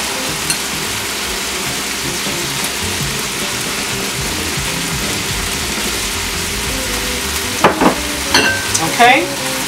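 Carrots and onion sizzle steadily in a hot pan for pancit, a dense continuous frying hiss with a few sharper clinks and scrapes of stirring near the end.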